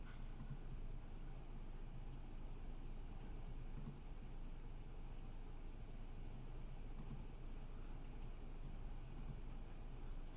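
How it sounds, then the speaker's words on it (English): Heavy rain pours steadily outside a room at the edge of a house, a dense, constant hiss and patter filling the space throughout with no break or talk. "You can hear rain very loudly in my room for some reason."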